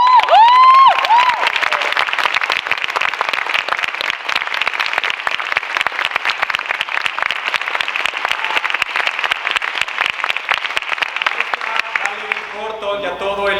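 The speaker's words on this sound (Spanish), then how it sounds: "un fuerte aplauso por favor a Fernando Iralda" Strong, sustained applause from a theatre audience after a play, many hands clapping loudly and evenly for over ten seconds with a few cheers, ending with a voice starting to speak.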